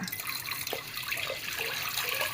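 Horse gram is washed and strained as water is poured over it, giving a continuous close splashing, trickling flow with small drips and gurgles throughout and no speech.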